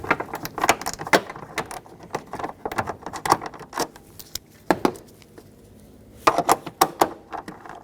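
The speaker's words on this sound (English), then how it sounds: "you have 2 10mm mounting nuts on long studs, so you'll need a deep socket to remove both of those" A ratchet and deep socket work loose 10mm mounting nuts on long studs of a 2010-2024 Toyota 4Runner tail light, giving rapid metallic clicking bursts in short runs with brief pauses.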